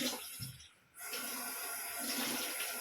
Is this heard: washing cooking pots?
yes